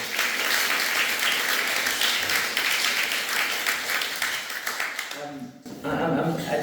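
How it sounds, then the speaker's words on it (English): Audience applause at a book launch, dense, steady clapping from a room full of people that fills most of the clip, dropping briefly near the end before picking up again. "You deserve a round of applause."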